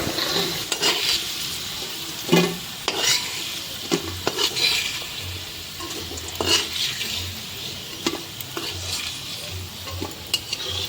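Food fries in a well-used iron kadai as a spatula stirs it, giving repeated scraping strokes and metallic knocks over a low sizzle, close and moderately loud, with no talk.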